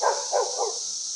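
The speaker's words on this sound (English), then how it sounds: "And that's my dog." A dog in a fenced backyard gives three quick barks in a row, moderately near and clear, then falls quiet over a faint steady hiss.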